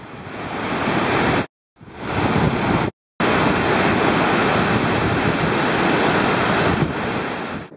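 A waterfall in Mondulkiri, Cambodia, roars as a loud, steady broadband rush, broken by two brief cuts to silence.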